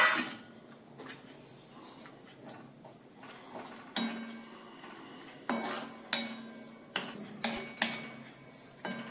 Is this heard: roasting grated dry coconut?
yes